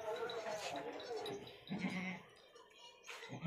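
At a goat sale, a Beetal goat of the Sahiwal type bleats a few times among the livestock, heard under steady nearby talk from the people there.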